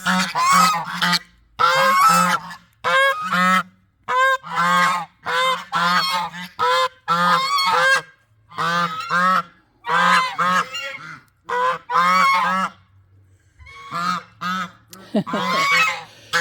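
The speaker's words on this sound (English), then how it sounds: "There's no way to keep geese quiet." Geese honk loudly and repeatedly close by, a rapid series of harsh, nasal calls with brief pauses between bursts.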